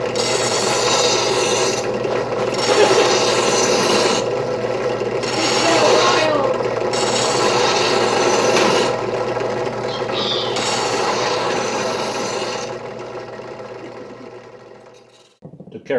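Hand file rasping against the steel blades of a 1972 tractor mower, with long rhythmic strokes broken by short pauses, close and fairly loud, fading to near quiet toward the end.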